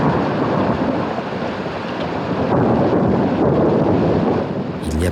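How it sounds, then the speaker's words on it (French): Strong wind blowing steadily through a rainy storm, a loud, continuous roar with gusty surges, heard alone. "Ce n'est que le vent."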